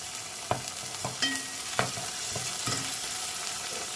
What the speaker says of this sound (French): Bien appuyer pour bien écraser la tomate.